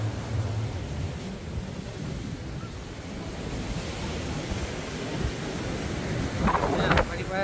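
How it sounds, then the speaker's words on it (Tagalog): Strong afternoon wind at Boscombe Beach, Bournemouth buffets the microphone in a continuous roar, with surf churning underneath and a brief rattling sound near the end. "malakas ang hangin. Lumalakas ng hangin kasi hapon na."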